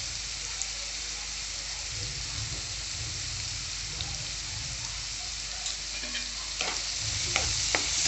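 Chopped ridge gourd sautéed in a pan with turmeric, red chili powder and homemade black masala, producing a continuous close sizzle with frequent scraping stirs.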